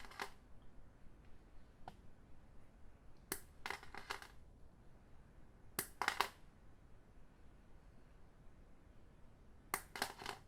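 Scissors snipping scoubidou lanyard strings, a handful of short crisp cuts in small clusters spaced out over quiet background hiss, close by.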